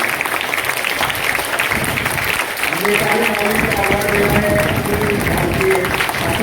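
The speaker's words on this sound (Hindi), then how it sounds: "आपकी तालियां जोरदार बजती हुई निकलें।" An audience at an award ceremony for teachers and students claps and cheers, a thick, steady patter that swells after the first seconds, while voices and a tonal sound run underneath.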